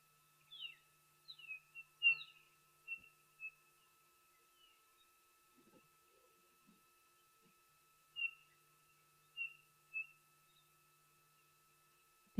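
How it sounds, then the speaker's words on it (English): A chinspot batis calls with a series of short, high whistled notes in sparse groups, clear against a quiet wild waterhole setting, with long silent pauses between them. "there's one very close to the camera that just called, and that is from a chin spot batis"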